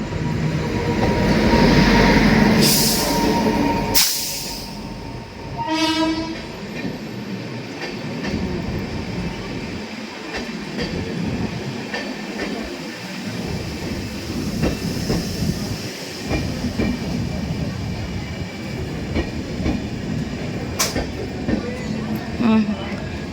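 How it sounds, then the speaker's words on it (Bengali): A night passenger train arriving at a station rumbles steadily on the rails for a long stretch, with a couple of sharp horn or brake bursts early on and people chatting nearby. "এই যে আমাদের ট্রেন"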